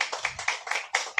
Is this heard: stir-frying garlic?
no